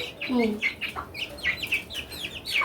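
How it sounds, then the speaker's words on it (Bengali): A chicken clucks repeatedly in short, close bursts, with softer chirping calls from other birds mixed in. "এই যে মুরগিটা দেখতে পারতেছেন"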